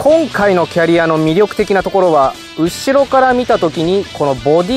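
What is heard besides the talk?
No distinct noise like a dog, phone or traffic.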